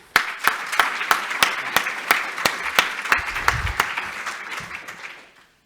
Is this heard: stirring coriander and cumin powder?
no